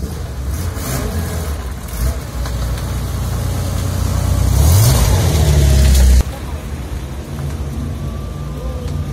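A historic rally car arrives in Monaco at the Rallye Monte Carlo Historique, its engine swelling loudly as it passes close by over a rumbling crowd background with people talking.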